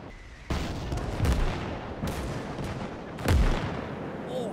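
Tank cannons fire in the WWII game Valour Workshop set on Iwo Jima, giving four heavy booms spaced about a second apart over a constant rumble of battle noise.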